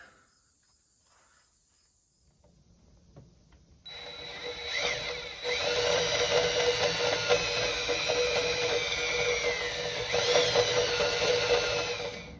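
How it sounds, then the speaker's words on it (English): A quiet stretch gives way to a loud, steady power drill whine, drilling during a drain plug repair on a 1962 F250 truck, running continuously for several seconds, close by, with a brief pitch rise near the end. "I was really wrestling with the drill"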